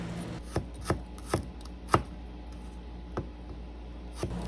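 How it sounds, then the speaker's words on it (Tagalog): A knife chops garlic on a board in a few separate, close taps, irregularly spaced over a quiet background hum. "Hiwang panggisa naman ang gawin natin sa bawang"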